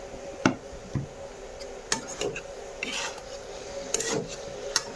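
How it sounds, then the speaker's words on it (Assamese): Taro, potato and crushed ginger and garlic being stirred in a pan, with a spoon scraping and clinking against the metal in irregular strokes over a faint background hum. "গোটেইখিনি মিক্স হোৱাকৈ ভালকৈ লৰাই ভাজি ল'ম"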